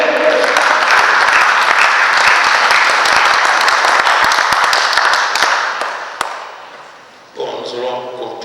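A church congregation at an evangelist's ordination service bursts into loud, dense applause acclaiming the Lord, steady clapping that holds for several seconds, thins and fades, then gives way to voices and singing.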